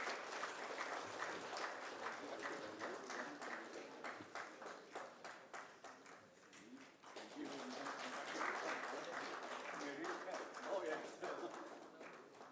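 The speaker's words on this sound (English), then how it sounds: "Can I expect a larger round of applause?" Applause from the audience at a panel discussion on cost optimization in digital business, a fairly soft, dense patter of many hands clapping that fades briefly and then swells again, with speech over it.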